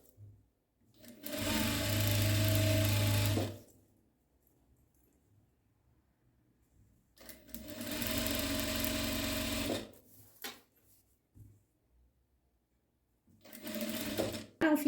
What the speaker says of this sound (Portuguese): E agora eu faço uma costurinha aqui, ó, de meio pezinho de máquina.